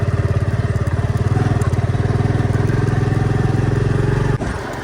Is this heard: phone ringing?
no